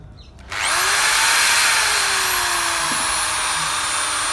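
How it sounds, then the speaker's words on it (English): A power drill boring a new hole, likely into a metal bolt or nut with stripped threads, whines up sharply after a brief pause and runs loud and steady to the end, with no voices. "Now I will drill a new hole here."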